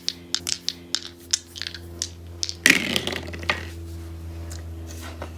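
Dice clatter with a string of small clicks and taps, then a sharper rattle as they land and settle, over a low steady hum.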